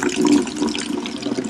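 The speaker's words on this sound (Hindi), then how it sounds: "एक एक डब्बा भर रही है नलके से" Tap water runs steadily into a small container for a bunny's wash, a continuous broadband splashing rush held at a fairly even level throughout, close by.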